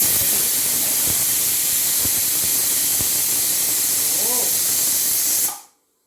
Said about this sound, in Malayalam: അപ്പം നമുക്ക് കടു വറുത്താം